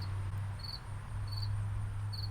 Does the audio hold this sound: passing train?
no